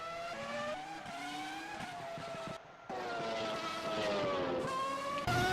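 2019 Australian Grand Prix race car at full throttle through the corners, engine note rising and falling through upshifts and downshifts, loud and close like an onboard view, with a brief dip partway through.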